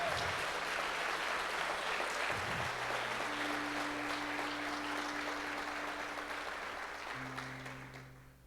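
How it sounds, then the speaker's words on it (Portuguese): A church congregation gives a round of applause, a steady crowd clapping with sustained low tones from instruments beneath, fading out toward the end. "Uma salva de palmas a Jesus"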